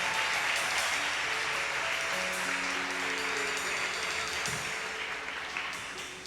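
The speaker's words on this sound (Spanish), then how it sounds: "¿Cuántos le puede dar un aplauso a él en esta hora?" A church congregation applauds during a service, a dense, steady wash of clapping that holds for several seconds and then slowly tapers off, with faint sustained musical tones underneath.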